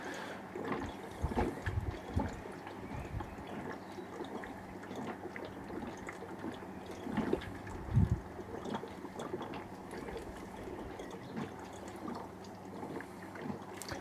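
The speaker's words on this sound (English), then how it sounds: "Just run the tap a bit harder." Tap water runs through home-brewing equipment for an Irish red ale, making a faint, low gurgling trickle with occasional splashy surges.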